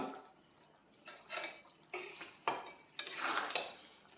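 Soya chunks being tipped into a cooking pan of chilli soya gravy, giving soft clinks and scrapes of a spoon against the pan and a few louder clattering bursts, all fairly quiet and close.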